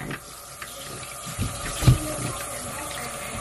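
Water runs steadily from a tap while a small child is rinsed, a continuous wash with a few soft thumps and splashes close by.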